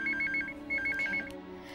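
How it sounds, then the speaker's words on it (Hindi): A phone ringtone plays in a home setting: two bursts of a repeating electronic melody, each a quick run of chiming notes, heard clearly over a low steady background hum. "किसका फोन आ गया इसमें?"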